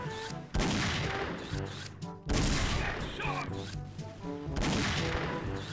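Rapid AWP sniper and rifle fire in a first-person shooter, loud bursts of gunshots cutting in at intervals across the clip, with game music and effects underneath.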